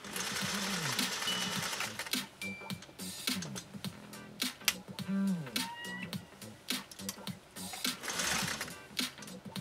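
A 1956 Singer 401A sewing machine stitches through three layers of compressed felt, running in loud bursts of rapid mechanical needle clatter with short pauses between runs.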